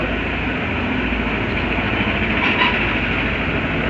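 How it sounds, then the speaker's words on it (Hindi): A BS6 motorcycle engine idles steadily, close and loud, a continuous even running drone with only a slight swell near the end and no voices. "मैं गाड़ी को स्टार्ट करता हूँ।"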